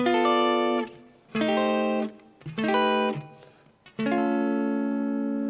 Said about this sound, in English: It starts off with a funny little chord thing, which sounds like this.